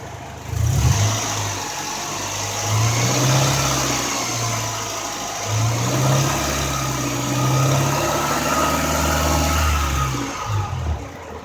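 A car engine runs with its A/C compressor straining at high pressure, around 500 PSI, while the valve fails; a loud, rough mechanical drone with repeated surging low pulses swells and eases throughout, no voices over it.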